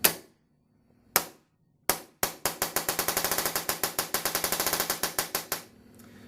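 A RAP4 M4 RAM .43 caliber paintball gun firing, first three spaced single shots, then a fast rapid-fire string of sharp close cracks that slows and stops.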